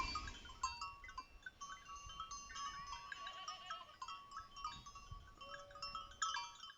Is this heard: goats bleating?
yes